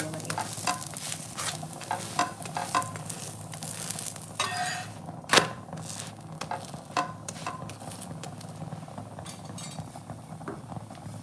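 Naan bread fries in a pan until slightly charred, a steady low sizzle running throughout, with close scraping and light clinks of a utensil against the pan and no talk.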